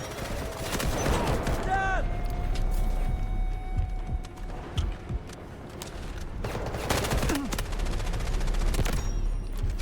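Bursts of automatic gunfire and rapid shots in the video game Delta Force, with game effects and a player talking over the action.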